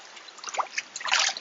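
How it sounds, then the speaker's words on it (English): An AquaBlast water bag dunked and bobbed up and down underwater, giving soft, close sloshing and gurgling bursts with a louder, busier swirl of water near the end. "just dunk it underwater and just sort of bob it up and down"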